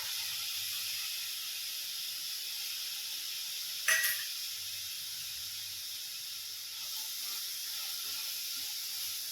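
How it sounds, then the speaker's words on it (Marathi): Fresh moong beans dry-roasting in a pan give off a steady, soft hiss, with one brief crackling rattle near the middle and no talking. "आता दाणे आपण हे भाजून घेऊ।"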